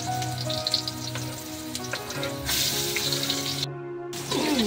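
Squid frying in a hot pan gives a steady crackling sizzle with scattered pops, close up and continuous, with a few clinks and a louder burst of sizzling partway through.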